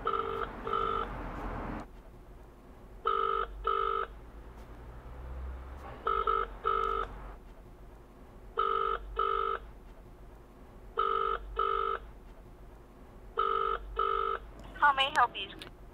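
A telephone rings unanswered in a steady pattern of double rings, about six cycles, at a moderate distance over a low background hum, with a brief higher sound at the end.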